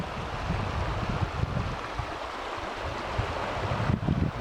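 River flowing near a secluded woodland camp, a continuous broadband rush of water with some wind buffeting the microphone, steady and fairly close with no voices.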